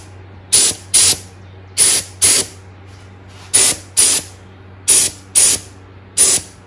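Light coats of spray paint go onto car wheels, here for a Porsche Boxster 986. Short aerosol bursts hiss in paired spurts, about ten in all, at a steady rhythm, loud and close over a faint background hum.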